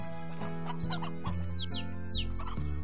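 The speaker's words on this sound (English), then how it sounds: "I hear chicken sounds." Chickens in the game Slime Rancher cluck and squawk in quick, uneven bursts close by, with short rising chirps mixed in over a steady low game hum.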